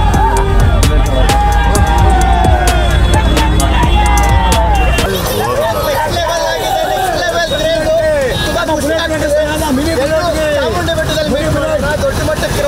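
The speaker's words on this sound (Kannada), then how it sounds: "ದೊಡ್ಡ ಮಟ್ಟ ಕ್ರೌಡ್ ಇದೆ. ಇಷ್ಟು ಜನ ನೋಡಿ ತುಂಬಾ ಖುಷಿ ಆಗ್ತಿದೆ." A large crowd gathers at a Mysore ride event, filling the air with a dense, continuous hubbub of many voices and shouts, heavy with low rumble for the first few seconds before thinning slightly.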